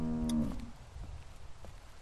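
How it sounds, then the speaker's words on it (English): A cow in The Walking Dead video game gives a single short, low moo at the start, fairly clear, followed by faint ambient game sound. "How do you like that cow, Clint?"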